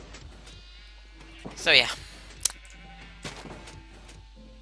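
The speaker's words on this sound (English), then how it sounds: "let's breed a couple of sheep here" Sheep bleating in a video game, one loud wavering bleat near the middle followed by a sharp click and fainter animal sounds, with a person speaking briefly over a quiet background.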